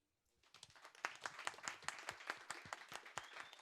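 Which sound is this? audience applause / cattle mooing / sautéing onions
audience applause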